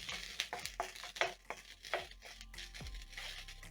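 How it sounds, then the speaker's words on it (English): Sliced medium onion sautéing in a pan for a curry, with crinkly stirring scrapes and light rustling over a soft, steady sizzle, heard close and without talk. "Saute for around a minute until the onion is soft."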